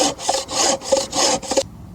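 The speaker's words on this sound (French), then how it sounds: "j'ai scié mon bois de chauffage avec cette scie pendant 3 hivers" Hand saw cutting firewood outdoors at a caravan, five steady back-and-forth rasping strokes in quick rhythm, close and loud, before the sawing stops abruptly.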